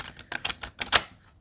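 A deck of tarot cards being shuffled by hand, a short burst of crisp riffling clicks and flutters in quick uneven succession, close and clear with no talk.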